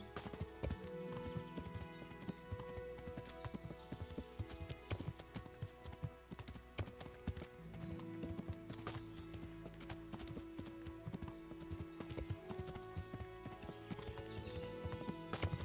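Horse hooves clip-clopping at a steady trot in the medieval video game Kingdom Come: Deliverance, a continuous rhythmic patter under music and game ambience, with an occasional whinny.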